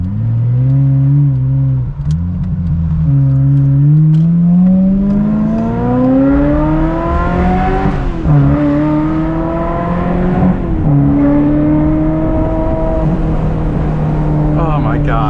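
A Ferrari 355 F1 engine revving, its tone climbing in smooth rising sweeps with brief dips between gear changes, loud and close throughout, with a voice speaking over it at times.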